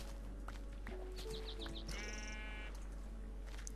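Sheep in the video game Minecraft give a few short, near bleats over a steady low hum, with faint footsteps and no talking.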